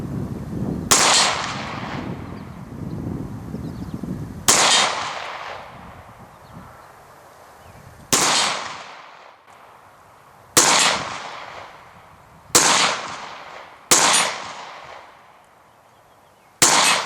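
An FN Five-seveN pistol fires 5.7x28mm rounds at an outdoor range toward steel pepper poppers on a 50-yard berm: about seven loud, sharp shots at irregular intervals, each with a sharp muzzle blast and a ringing, decaying tail.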